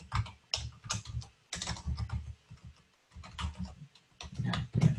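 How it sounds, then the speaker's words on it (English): Rapid bursts of typing on a computer keyboard, close and fairly loud, in uneven runs of clacking keystrokes separated by short pauses, with a harder thump near the end. "my keyboard's awful right now"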